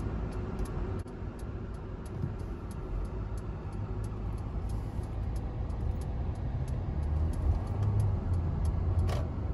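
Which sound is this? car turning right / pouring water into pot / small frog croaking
car turning right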